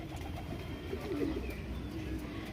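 Pigeons coo softly in a low, burbling call while rice is scattered for them, faint and close against a quiet background hum.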